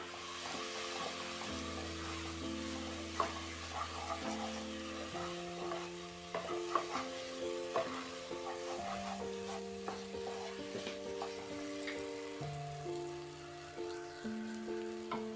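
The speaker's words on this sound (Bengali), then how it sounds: "মশলার মধ্যেই মাশরুমটাকে ভালো করে কষিয়ে নিলাম।" Mushrooms stir-fried in spice masala for a mixed vegetable dish, a soft sizzle with frequent scraping stirs in the pan, under steady background music with held tones.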